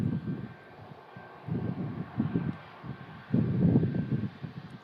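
A Scandinavian airliner taxiing at an airport, its engines a low steady rumble heard from a distance with swelling surges, wind buffeting the microphone.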